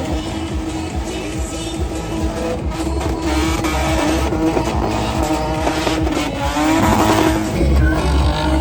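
Race car engines roar and whine steadily around a wet Lexus-run circuit at a King of the Cone hillclimb event, loud and continuous with rising revs and some tyre hiss, no talk.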